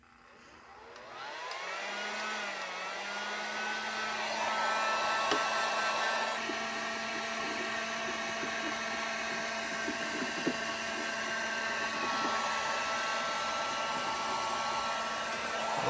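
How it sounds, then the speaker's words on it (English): A heat gun warms the rubber carburetor boots on a 1978 Suzuki DR370 motorcycle, spinning up within a second into a steady, close, airy whine that holds unbroken for about fifteen seconds with no talking. "I'm just going to heat these up again with the heat gun, make these soft"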